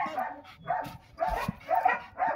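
A dog barks in a repeated series of five or six short, close barks at an even rhythm, with no talk over them.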